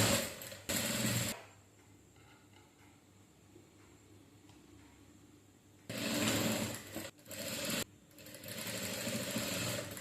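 A sewing machine stitches a saree blouse, running loud and steady in two long bursts near the start and again toward the end, with a quiet gap between them.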